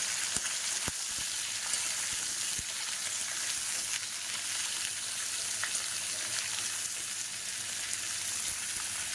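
Green banana and potato pieces fry in hot oil with black cumin in a pan, giving a steady, dense sizzle with faint crackles throughout and no talking.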